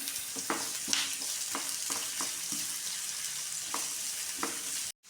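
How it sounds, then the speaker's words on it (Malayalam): Onions fry in hot oil for egg fried rice while a spoon stirs them, producing a soft, steady sizzle punctuated by regular scraping strokes, quiet and close, cutting off abruptly at the end. "ഞാൻ ഉള്ളിയൊക്കെ നന്നായി ഒന്ന് മിക്സ് ചെയ്ത് കൊടുക്കാം"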